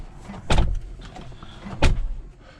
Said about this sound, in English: they have improved the sound of the doors